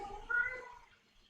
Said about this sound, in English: That is my cat meowing and not your cat